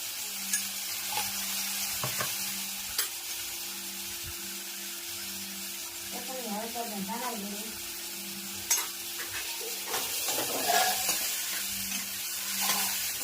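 Tomatoes and salt fry in a hot pan with a steady, close sizzle throughout, broken by occasional sharp stirring clicks and utensil taps.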